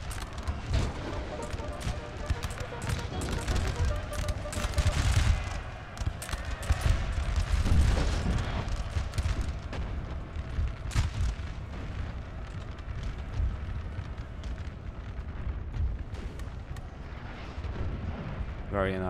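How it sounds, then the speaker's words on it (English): Gunfire and explosions in the video game Napoleonic: Total War crackle and thump repeatedly, with scattered sharp pops and heavier booms layered over a busy battle din, a voice talking over it. "There's just explosions here and there. There's dead. There's pops and cracks and everything you like"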